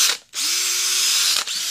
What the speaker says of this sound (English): Today, we're drilling a little hole here.